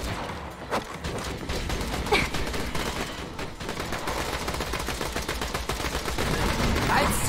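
Sustained rapid turret gunfire from the video game Borderlands 2 crackles loudly and continuously, with dense bursts of shots and occasional sharper impacts layered throughout.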